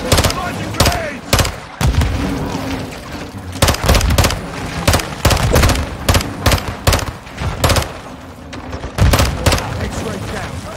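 Gunfire and grenade launcher blasts from the Call of Duty Modern Warfare 2 campaign, with loud repeated shots and booms cracking in irregular bursts over dense battle noise.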